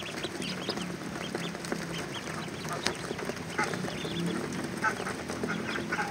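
Two-day-old ducklings feed busily on a farm, giving a dense, continuous chorus of close peeping and chattering calls with scattered louder chirps throughout.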